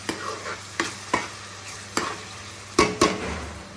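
Spoon scraping and stirring in a pan as tomato is worked into a sizzling black-eyed pea curry, several sharp knocks and scrapes spaced irregularly over a faint frying hiss, close and clear.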